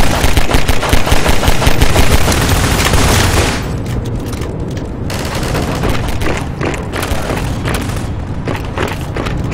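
Rapid automatic gunfire in a Garry's Mod Half-Life 2 roleplay game, loud dense bursts for the first few seconds, then scattered shots continuing under a lower, busier mix.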